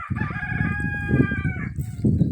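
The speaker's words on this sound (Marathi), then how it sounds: "आमच्या इथं कोंबड्या आहेत" A rooster crows once on a farm, a long loud drawn-out call, while hens cluck nearby before and after it.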